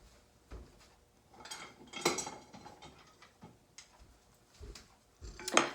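A metal spoon is picked out from among kitchen utensils, giving a few faint, scattered clinks and light rattles in a quiet room.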